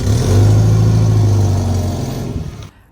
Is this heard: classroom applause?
no